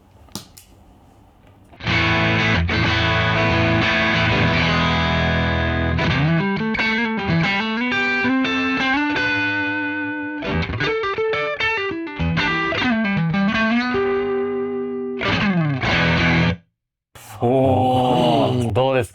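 An electric guitar plays chords and bending lead lines through a warm, gritty Tube Screamer-style overdrive pedal with all knobs at center, loud and sustained, with a short pause near the end.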